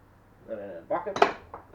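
Metal bolts from a Holden Commodore VZ seat are dropped into a bucket, giving a short burst of close metallic clinks and rattles, quiet and alone.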